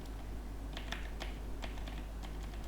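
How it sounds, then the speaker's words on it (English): Irregular clicks of keys being pressed on a keyboard, a few quick taps at a time over a low steady hum. "This is a mechanical keyboard,"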